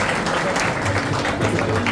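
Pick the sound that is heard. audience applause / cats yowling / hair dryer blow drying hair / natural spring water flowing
audience applause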